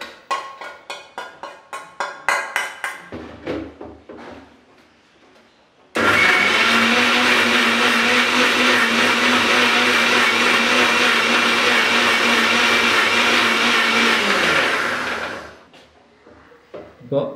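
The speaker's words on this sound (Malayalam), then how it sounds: "ഇനി അത് മിക്സിയിൽ ഇട്ട് അരയ്ക്കാനുള്ളതാണ്" A mixer grinder blends roasted masala for a mushroom masala curry, running as a loud steady whir for about ten seconds before winding down, with brief clatter and handling noise before and after.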